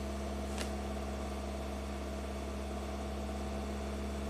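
A Ford EcoBoost engine with a fault runs slightly above idle, a steady low drone with a constant hum and a single brief high sound near the start.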